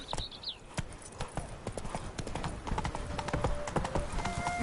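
Horse hooves clip-clop in a steady walking rhythm as Roach is ridden in The Witcher 3: Wild Hunt, close and clear, with faint game ambience and brief tonal sounds behind.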